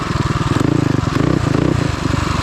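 A Coleman B200RSV mini bike with a Chinese-built engine and knockoff parts, riding a badly rutted trail. The single-cylinder motor runs loud and close, with a steady fast putter and slight rises and falls in revs.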